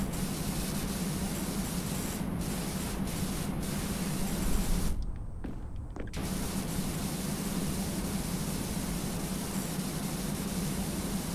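A pressure washer sprays continuously in PowerWash Simulator while cleaning a Mars rover, a steady loud hiss of water jet that briefly cuts out for about a second midway before resuming.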